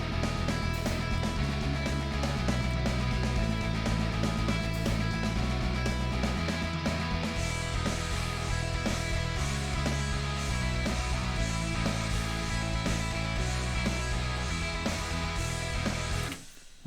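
Odin 2 guitar VST part playing within a full music mix, with steady sustained tones and rhythmic low notes running continuously at a constant level before cutting off near the end.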